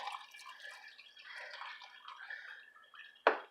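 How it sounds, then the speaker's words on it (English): Water poured into cold brew coffee concentrate, a light close trickle running for about three seconds before ending in one sharp drip or splash. "I am going to add some water because that coffee is so concentrated"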